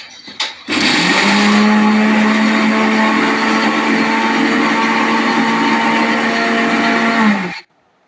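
A mixer grinder grinding peanuts, chillies and garlic runs at full power for about seven seconds, a loud, steady motor whine with a grinding rattle, then stops abruptly.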